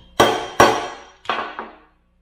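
Four sharp metal hammer strikes drive a TORQ locker into a Toyota Tacoma 8-inch clamshell front differential carrier, two evenly spaced blows then a pause and two more, each ringing briefly before fading, close and loud.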